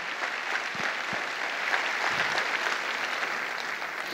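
A church congregation applauds during a Sunday evening service, steady sustained clapping from a crowd filling the whole stretch without pause.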